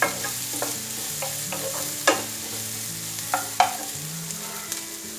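Onions sautéing in a pan with crushed ginger and garlic: a low steady sizzle broken by sharp spoon scrapes and clacks against the pan, heard alone without speech.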